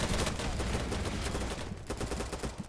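MP5 submachine gun firing in Battlebit, a dense continuous stream of rapid automatic shots, loud and close, with a rhythmic crackle throughout.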